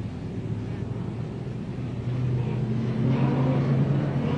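Tooheys Super Sedan race cars accelerating at the start of an eight-lap invitation race, a broad engine roar that climbs in pitch and swells louder over the final seconds.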